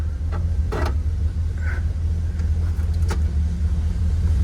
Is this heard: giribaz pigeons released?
no